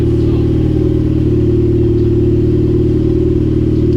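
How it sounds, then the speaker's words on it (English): A turbocharged Mazda Miata with an open downpipe idles close by, a loud, steady, rough low rumble with a slightly uneven, lumpy pulse and no talking. "Sounds kind of turdy, but Dude, open downpipe turbo Miatas are like the best thing ever."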